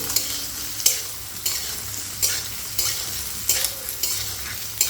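Jujubes are stirred into spices fried in hot oil for a jujube pickle: a spoon scrapes the pan in repeated strokes under a steady, close sizzle.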